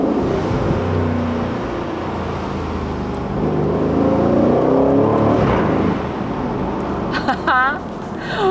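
An Aston Martin Vantage Roadster engine revs loud and close, a steady rumbling drone that swells mid-way, with excited voices talking over it throughout.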